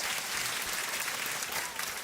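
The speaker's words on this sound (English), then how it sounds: "There's applause tracks for that one." A dense applause track, a steady continuous roar of many hands clapping at even loudness throughout.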